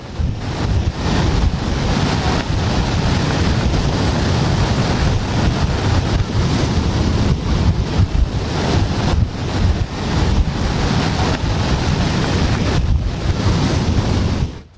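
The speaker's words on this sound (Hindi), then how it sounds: "समंदर की लहरें आगे आ रही हैं, बता रही हैं कि सुनामी आने वाली है" Loud, continuous roar of sea waves surging toward shore in Japan ahead of a tsunami, with heavy wind buffeting the microphone throughout and no voices.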